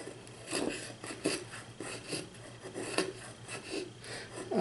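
A Yakutian-style prototype knife shaves feather sticks from a piece of wood, giving repeated rasping, scraping strokes in a loose, steady rhythm, close and moderately quiet, with no speech.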